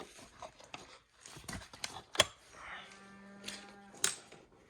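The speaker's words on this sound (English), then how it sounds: "That's a cow." A cow lows once, a low steady moo near the middle, amid scattered clicks and handling noises on a farm.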